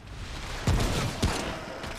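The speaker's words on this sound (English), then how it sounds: "God, I love this gun" Gunfire from a favourite gun in a video game, two heavy booming shots about half a second apart over a dense, noisy game soundscape, with no one talking.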